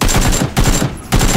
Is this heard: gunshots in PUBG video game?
yes